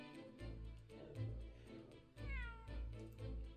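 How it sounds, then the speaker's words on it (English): A cartoon cat in the Great Ace Attorney 2 video game meows twice, then gives a longer, cheeky, rising meow. The cries are loud and close over steady game background music, with no talking. "That was a cheeky little meow, Wag-a-hi."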